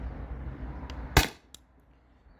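A single sharp, loud pop from a CO2-powered Alien Play launcher with a 12-gram cartridge firing Riot Balls, followed by a faint click and quiet.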